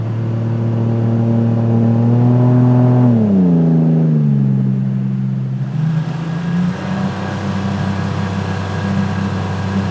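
An inflatable jet raft's engine drones loud and close with a steady humming tone, easing down from higher revs about three seconds in and then holding a lower, even idle.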